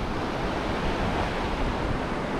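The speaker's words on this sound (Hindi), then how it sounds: "खूबसूरत बहती हुई नदी।" River flowing through Gabral valley in Swat, Pakistan, past a village of colorful stone houses, making a steady broadband rush of water that stays loud and even throughout with no voices.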